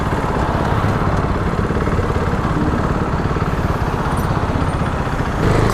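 A motorcycle engine runs steadily and close up as the rider eases the clutch out and opens the throttle, with a constant droning rumble and some wind noise.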